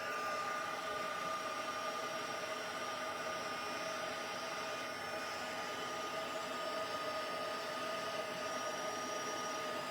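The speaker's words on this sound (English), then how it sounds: "let's grab out our heat gun for the last one" A heat gun blows hot air onto a crafting die cut with a continuous, fairly soft whooshing fan hum and a faint whine, steady from start to finish with no speech.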